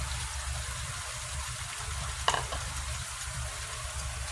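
Pork adobo with fried potatoes stirred in a pan, a steady bubbling sizzle with a low rumble beneath and one brief clatter of a spoon against the pan.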